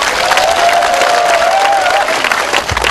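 An audience gives a warm burst of welcoming applause at a family sports day held by a youth association, loud and dense clapping with a faint whistle or cheer running through it.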